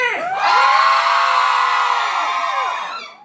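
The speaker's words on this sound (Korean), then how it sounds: "소녀들의 함성 소리" Girls in the audience at a musical curtain-call encore cheer and shout, a burst of high whoops and sustained yelling that swells quickly, holds loud for a few seconds, then tapers off.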